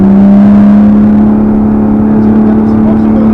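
A Lotus Exige S sports car with a 350-horsepower engine accelerates hard through a corner on a race circuit, its loud, steady engine drone and whir filling the cabin while someone talks over it.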